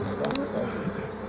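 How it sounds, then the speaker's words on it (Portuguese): Africanized honeybees swarming near an open hive and its frames, a brief buzzing hum with a few sharp close passes of individual bees, heard alongside nearby voices. "Olha as abelhas."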